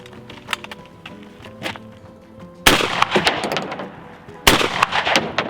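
A shotgun firing a reloaded Remington STS shell: two loud, sharp blasts a couple of seconds apart, each with a ringing outdoor tail, after quieter handling clicks.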